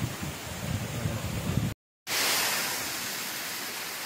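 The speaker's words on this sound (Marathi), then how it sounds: "छान असा धबधबा आहे" A waterfall near Bhavali dam in Igatpuri roars as a steady broadband rush, briefly cut off, then returning as a brighter continuous torrent.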